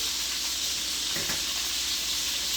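Chicken strips frying in a pan give off a steady, even sizzle that fills the whole stretch, with a brief low clink partway through and no talking.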